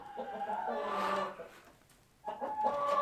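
Rhode Island rooster calling nearby, two throaty drawn-out crow-like vocalizations with a brief quiet gap between, fairly loud and close.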